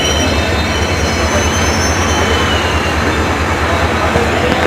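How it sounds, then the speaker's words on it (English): A train arriving at platform 1 of Jodhpur Railway Station rumbles loudly and steadily close by, wheels grinding on the rails with a faint high squeal throughout. "the trains arriving at the platform number 1"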